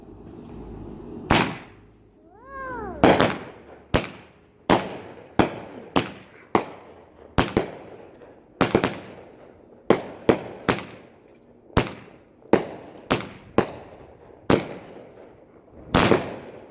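Pumpkin Patch 200g firework cake by King Bird, with green tails and orange bursts, firing a launch whistle and then a long series of sharp popping bursts at irregular intervals, moderately distant outdoors, without talking.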